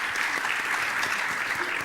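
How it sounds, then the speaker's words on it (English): Audience applause at a school district recognition ceremony, a steady wash of many hands clapping that stays loud and even throughout with no break. "So let's give them a round of applause."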